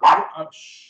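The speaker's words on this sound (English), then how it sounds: "that's my dog." A single loud, close dog bark bursts out at once and fades within a second, leaving a faint high tone behind.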